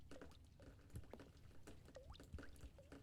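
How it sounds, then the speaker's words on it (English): Faint water droplets in The Stanley Parable: Ultra Deluxe, scattered plinks and small bubbly pings over a low murky background, very quiet throughout. "That's where it's dripping."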